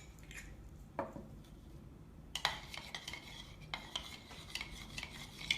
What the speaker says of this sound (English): So mix it together.